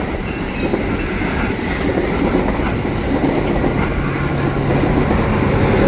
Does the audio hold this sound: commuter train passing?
yes